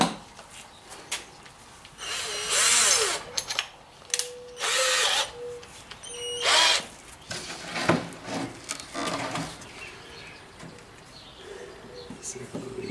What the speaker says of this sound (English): I also need to pre-drill a hole so I can get my jigsaw started.